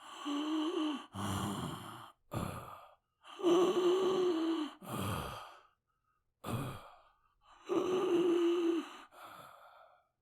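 A voice imitates heavy breathing: long, drawn-out, raspy breaths and sighs repeated several times with short silences between them, close up.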